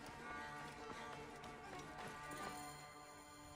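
Hooves clip-clop as a horse gallops away in the video game Assassin's Creed Origins. The rhythmic hoofbeats play over a dense game soundscape.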